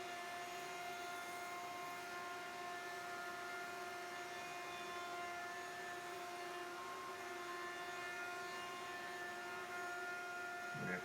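A router cuts around the edge of a Fender Jaguar-style guitar body, giving a steady, continuous high whine with a constant tone and no pauses. No one talks over it.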